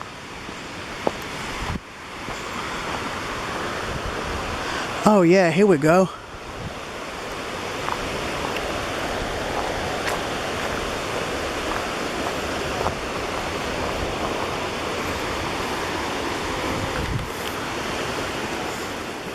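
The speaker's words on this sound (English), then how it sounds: "here's the river" A river in the Saluda and Tryon area of North Carolina rushes steadily, a broad continuous wash of flowing water close by, with someone speaking briefly and a short whistling burst early on.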